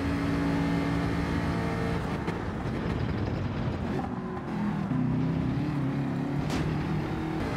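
Race car at full speed in the Gran Turismo 7 video game, a loud sustained engine drone with harmonic pitch shifts as the car changes speed, continuous throughout without speech.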